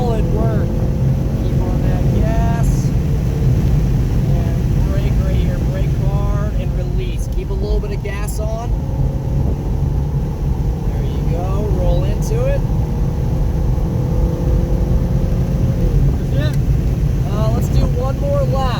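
A car driven hard around a race track on a hot lap, with a loud sustained engine drone that rises and falls through shifts and corners amid heavy wind buffeting, while a coach talks over it.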